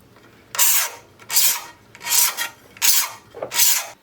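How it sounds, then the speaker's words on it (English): Hand scraper shaving thin layers of gunk off an acrylic edge, five separate rasping, squeaky strokes in an even rhythm, close and fairly loud with quiet pauses between them. "you just run it around the edge. It's a bit squeaky and horrible, but it will carve off in very thin layers the acrylic"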